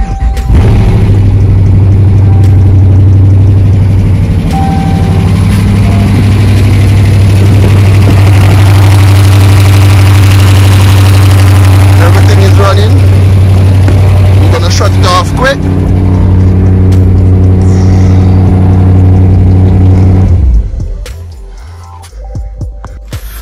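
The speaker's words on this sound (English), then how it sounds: "finally car starts" A 2017 Dodge Charger with a 5.7 V8, a rebuilt wreck, runs loud and close with a steady low idle rumble. It carries on for about twenty seconds before the sound drops away near the end.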